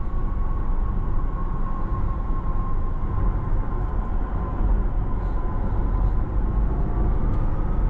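A rear-wheel-drive 2025 Porsche Taycan accelerates smoothly, heard from the cabin as a steady low road and motor hum. A faint electric whine rises and falls over it, and no one speaks.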